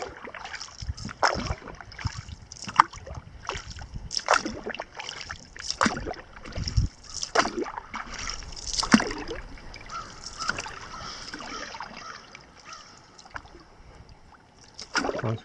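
Canoe paddling on a solo trip through the Boundary Waters, with repeated soft splashes and gurgles of paddle strokes close by, steady and rhythmic with light water movement throughout.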